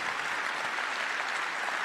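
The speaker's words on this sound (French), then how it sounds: "Applaudissez-vous." Graduates applauding themselves at an annual alumni evening: a dense, loud, continuous wash of clapping from a large hall audience, steady throughout with no talk over it.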